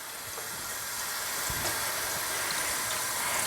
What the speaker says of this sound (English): Then I like to rinse it out first.